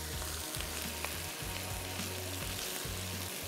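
Minced meat mixed with papaya sizzling loudly in hot spiced oil in a pan, a steady close crackle broken by regular scraping strokes as it is stirred, with no one speaking.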